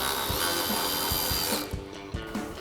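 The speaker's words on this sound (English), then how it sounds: "we've got our 7mm shallow socket on our ratchet" A ratchet with a 7mm shallow socket removes screws from the front section of a 2005-2013 Corvette, giving rapid close clicking with short thumps, with no talking.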